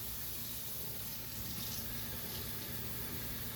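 Tap water runs steadily into a brine container being filled for a beer-based chicken brine, a continuous hiss and gurgle heard alone and fairly quietly.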